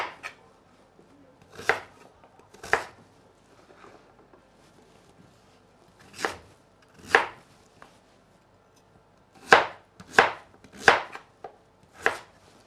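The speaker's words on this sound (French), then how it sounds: "je vais d'abord la découper en 4 avant de la découper" A knife chops a large vegetable into pieces on a board for a vegetable soup, giving a series of sharp, separate thuds at an uneven pace, close up in a quiet kitchen.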